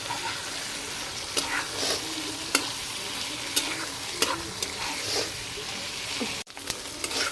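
Stuffed patal sizzles in hot oil as a spatula scrapes and stirs at a regular pace, the frying hiss steady and close, with a sudden brief gap near the end and no voices.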